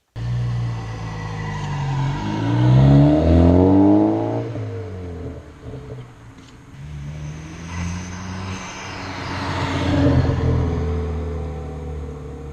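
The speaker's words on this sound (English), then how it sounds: "This is just a test of what it sounds like if you're just going to drive normal through the neighborhood" A Ford Focus ST fitted with a Ford Performance exhaust drives through a neighborhood at normal speed, its engine note rising, swelling up close, fading away, then returning and building again.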